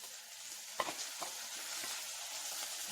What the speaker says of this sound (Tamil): கருவேப்பிலை வெங்காயம் போட்டுட்டு நம்ம அந்த 1 நிமிஷம் வதக்கினோன்னா